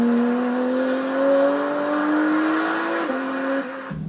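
Porsche 718 GT4 with a 4-liter naturally aspirated flat-six revving, a loud, close tone that climbs steadily and then drops near the end, with no talk.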